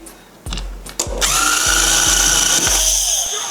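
A YATO YT-82760 cordless screwdriver drives a screw: a few short clicks, then a loud, close, steady motor whir that runs to the end without a break.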